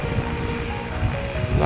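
A seaplane taxis on a water runway, its engine giving a steady droning hum with a rising tone toward the end, heard from a waterfront.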